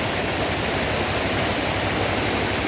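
A strong river current rushes over rocks in a continuous, loud, dense roar of churning water, steady throughout with no voices.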